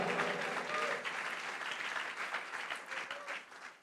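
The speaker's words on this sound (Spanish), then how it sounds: "Dale un fuerte aplauso al Rey." Sustained applause from a congregation, dense steady clapping that fills the room, with a few voices faintly mixed in before it tapers slightly at the end.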